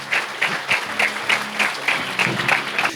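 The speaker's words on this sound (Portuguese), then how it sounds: "Salve de palmas aí," Studio audience applause welcoming guests onto a business talk show, brisk, loud clapping with rhythmic pulses throughout.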